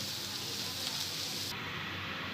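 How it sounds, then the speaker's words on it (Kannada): Crushed garlic frying in a little oil in a pan, a steady broadband sizzle that holds at an even level throughout, close and continuous with no other sounds. "ಈಗ ಜಜ್ಜಿಟ್ಕೊಂಡಿರೋ ಬೆಳ್ಳುಳ್ಳಿನ ಫ್ರೈ ಮಾಡ್ಕೊಳ್ತಾ ಇದ್ದೀನಿ"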